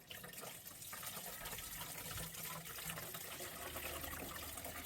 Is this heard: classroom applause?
no